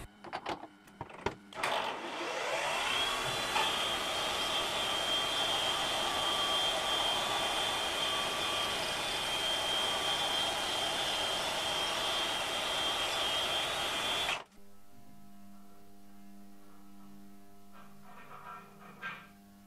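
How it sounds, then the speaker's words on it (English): A machine tool bores out a metal part in a home workshop, a loud steady whirring cut with a thin high whine that holds for about twelve seconds, then stops abruptly, leaving quiet shop sounds. "Let's just bore it out."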